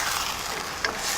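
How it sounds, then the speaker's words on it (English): Fresh string beans stirred in a pan: a short, soft sizzle with a faint scrape of the spoon partway through. "Now I'm going to stir my string beans."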